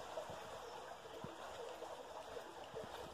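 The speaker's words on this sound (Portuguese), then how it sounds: "E olha só essa beleza desses riachos, olha como tá bem cheio." A small creek on a rural farm runs full after heavy rain, its water flowing and trickling steadily at low volume, a continuous soft rush with faint gurgles close by.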